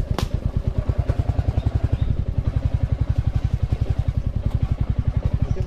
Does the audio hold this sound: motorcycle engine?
yes